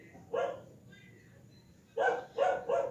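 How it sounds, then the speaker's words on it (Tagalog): At a sunflower farm in Pangasinan, a dog barks four times, one bark early and then a quick run of three, fairly close and moderately loud against a quiet outdoor background. "sumabay po ang aso guys"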